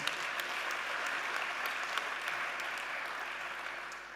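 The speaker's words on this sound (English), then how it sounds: "if you could give them a round of applause" Steady applause from a crowd at an awards ceremony, dense clapping with a few sharper claps standing out, continuing without a break.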